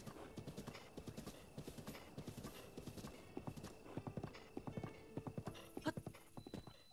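Horse hooves clip-clop in a quick, steady rhythm in the game Zelda Breath of the Wild, a wild horse's gallop sounding clear and close, with faint background game sounds and no talk over it.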